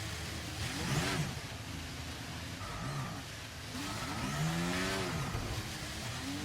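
An F1 23 race car pulls out of a slow Monaco corner in first gear, its engine rising and falling in repeated revving sweeps with short gaps between pushes, no voices over it.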